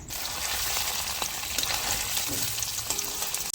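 Cumin seeds tempering in hot oil in a home kitchen: a dense, steady crackling sizzle holds close and loud for the whole stretch, with a few faint clicks and no talk.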